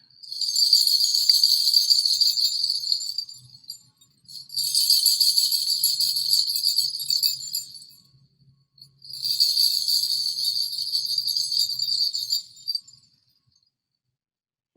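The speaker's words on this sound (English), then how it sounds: "It was bells." Three bursts of bright, high tinkling ring out, each lasting a few seconds before stopping, with short silences between them.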